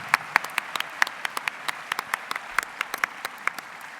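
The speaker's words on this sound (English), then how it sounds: "A huge hand of applause for the authors on the screen." Sparse, scattered applause from a small audience at an academic conference closing ceremony honoring demo authors, individual claps distinct and irregular, moderately faint and close.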